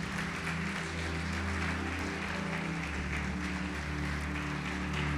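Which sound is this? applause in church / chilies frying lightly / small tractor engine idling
applause in church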